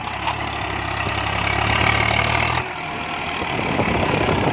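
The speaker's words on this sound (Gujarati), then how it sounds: "હો આવ્યું ટ્રેક્ટર અમારું" A tractor engine runs at idle nearby with a steady low chugging drone. Partway through it changes to a lighter, rougher rumble.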